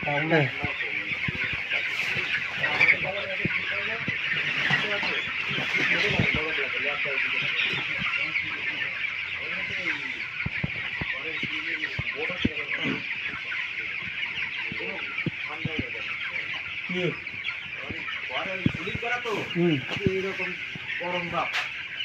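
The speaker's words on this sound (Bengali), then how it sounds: "বড় প্রজেক্ট ব্রয়লারের 2900 মুরগি।" A dense flock of broiler chickens, some 2,900 birds, clucks and chirps continuously inside a large poultry shed, forming a loud, unbroken chorus with occasional nearer calls standing out.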